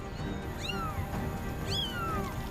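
A kitten gives two high, rising-then-falling meows about a second apart, loud and close over steady background noise.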